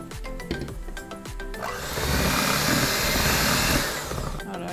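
An electric mixer whirs steadily as cream cheese, sugar and whipping cream are beaten for a no-bake Oreo cheesecake, its motor rising to a louder, fuller drone midway before easing back, with no talking.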